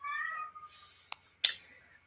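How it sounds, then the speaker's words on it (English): A pet cat gives a close, clear meow followed by a couple of short chirping calls and a brief rustle, heard alone in a quiet room. "that's my cat."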